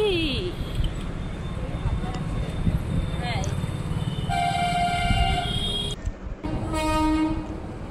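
A train at Bardhaman railway station rumbles steadily nearby, then its horn blares in two loud blasts toward the end, with voices in the background.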